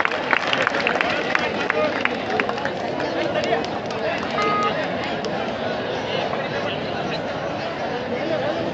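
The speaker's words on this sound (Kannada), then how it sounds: "ಎಲ್ಲರೂ ಚಪ್ಪಾಳೆ ಮೂಲಕ ಅವರನ್ನು ಪ್ರೋತ್ಸಾಹಿಸಬೇಕಾಗಿರುತ್ತೆ" A dense crowd roars and claps at a village kabaddi match between Nagnur and Handigund. The steady mass of cheering and chatter stays close and loud throughout, with sharper claps standing out near the start.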